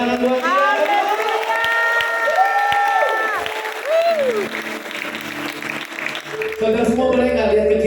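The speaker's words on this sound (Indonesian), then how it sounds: "boleh berikan tepuk tangan buat dia." Audience applause rises at an evening church worship gathering, a birthday celebration service in Klaten, with broad clapping and crowd noise mixed under sustained sung and played music that shifts in pitch throughout.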